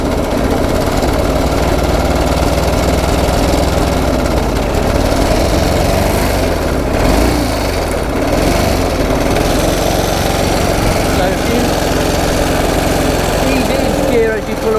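A 109-year-old TT racing motorcycle engine running at a museum, a rough, rattling, mower-like chug held at steady revs for a long stretch, close and loud, with voices talking over it.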